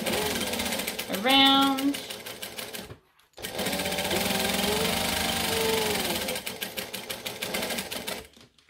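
Sewing machine stitching a wallet, running in steady bursts with a short stop midway before resuming; a voice speaks briefly over the motor.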